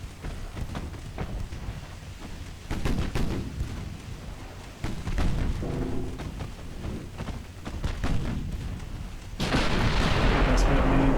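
Naval gunfire booms from the 1920s battleship game Ultimate Admiral Dreadnoughts, several heavy blasts spaced a few seconds apart over a rumbling, windy sea backdrop, with a louder roaring burst near the end.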